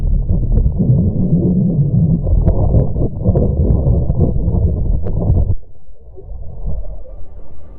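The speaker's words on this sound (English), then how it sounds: "That was the sound of the Earth's magnetic field as recorded by the Italian Spring Accelerometer on" Earth's magnetic field, recorded by the Italian Spring Accelerometer on the BepiColombo spacecraft and turned into sound: a loud, low, throbbing rumble with faint clicks that thins to a softer, hollow drone near the end.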